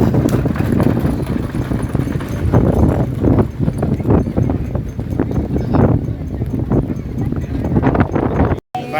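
Bullock cart ride at a farm cart-racing association event, with steady rhythmic hoofbeats clopping close by under rustling wind noise, continuous throughout.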